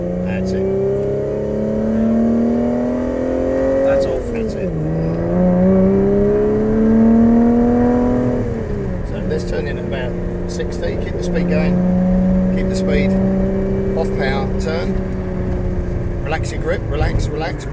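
Lotus Evora 400 sports car driven on a track during an activity day, its engine droning loudly and steadily with rising and falling revs as the driver and an instructor talk over it inside the cabin.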